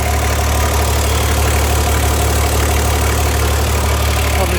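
A Toyota LC75 Land Cruiser's 2H diesel engine, newly fitted with a turbo kit, idles steadily after a restart, a loud, constant low rumble with a fine rhythmic knock and no talk over it.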